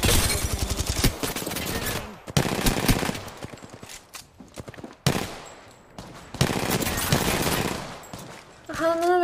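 Bursts of automatic gunfire in a competitive shooter video game come in rapid, loud volleys separated by short pauses, with a voice briefly speaking near the end.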